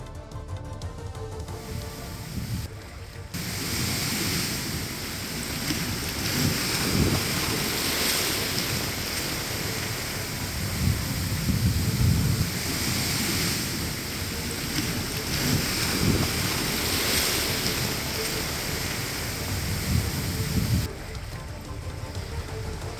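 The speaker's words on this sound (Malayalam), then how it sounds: "കൊച്ചി കണ്ണമാലിയിൽ വീണ്ടും കടലേറ്റം" Sea surge waves surging onto the coast at Kannamaly, Kochi, make a continuous roaring wash mixed with heavy wind noise against the microphone, steady and loud throughout.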